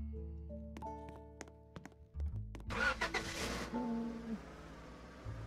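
A truck engine in the Roblox game Lumber Tycoon 2 starts up and drives, a steady low hum that swells into a louder revving surge with a burst of rushing noise, then settles back to a running drone.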